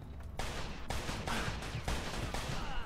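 Gunfire in the video game Mafia 2: several sharp shots in quick succession at irregular intervals, fairly close and loud over a noisy background.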